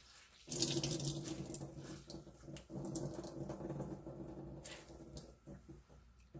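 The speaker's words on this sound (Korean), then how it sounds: "물기를 꽉 짜주세요." Water streams and drips from blanched bangpung greens as they are squeezed hard by hand, a close, splashy trickle that starts suddenly and runs on with a few pattering drops.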